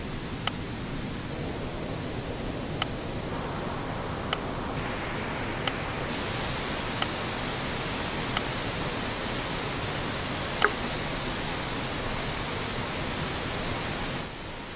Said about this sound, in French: on est sur un son, un bruit blanc